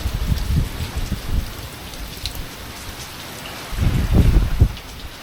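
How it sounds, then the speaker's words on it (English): Steady rain patters on a surface nearby, with heavier bursts of drumming drops at the start and again near the end. "can't get out of the rain"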